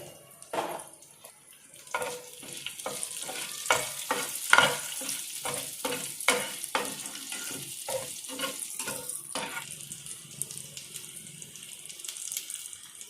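Mustard seeds, cumin, garlic and curry leaves crackle and sizzle in hot oil, with dense bursts of popping and spattering over a steady fry, some sharp pops standing out near the start before settling into continuous sizzling.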